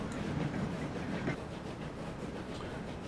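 A London Tram 2 runs in the video game Transport Fever, a steady low rolling rumble with faint rail clatter that holds even throughout, moderately loud and with no voices.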